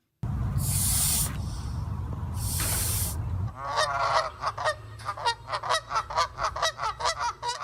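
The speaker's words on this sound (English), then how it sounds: "Canadian geese are back." Canada geese in spring, first loud hissing bursts, then a quick series of rhythmic, nasal honks calling close by.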